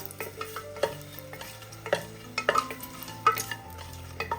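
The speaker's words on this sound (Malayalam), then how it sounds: "സ്പൈസസ് ഒക്കെ ഒന്ന് മൂത്ത് വരണം. ഫ്ലെയിം കുറച്ച് വെച്ച് കൊടുക്കാം." Whole spices, cardamom, cloves, bay leaf and dried red chillies, fry in oil over a lowered flame with a soft, steady sizzle, punctuated by several distinct metallic spoon clinks and scrapes against the pan, with a faint low hum beneath.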